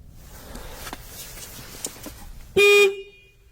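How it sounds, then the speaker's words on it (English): A van horn blares once, loud and close, in a single short blast after a few seconds of quiet background rustling and faint footsteps. "That was definitely the horn."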